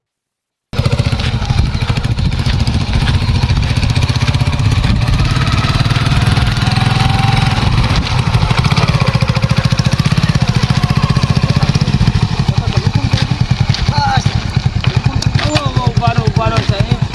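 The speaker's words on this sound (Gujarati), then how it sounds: "બાઈક બંધ કરો, બાઈક બંધ કરો" A motorcycle engine runs steadily and loudly from start to finish on a roadside, its close, continuous rumble masking everything else.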